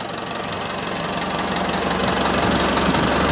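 Old Volvo BM-642 loader with a Bolinder diesel engine idling after a cold start, a steady rough knocking rumble that stays loud and close, swelling slightly near the end.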